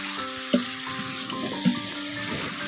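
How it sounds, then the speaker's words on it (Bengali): A little water splashes into a pan of chicken curry frying over the heat, with a steady hiss and sizzle and two soft knocks as it is added. "এবার এর মধ্যে একটু অল্প করে জল দিয়ে দিচ্ছি।"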